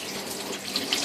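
A kitchen tap running steadily as hands are washed before grating cheese, a short close hiss of flowing water splashing into the sink with no voices.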